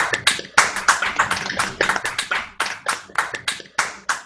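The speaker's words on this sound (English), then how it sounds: "let's all give a big round of applause" A small group claps sparsely and unevenly at a community singing gathering, each clap distinct and close, forming an irregular patter rather than a full roar.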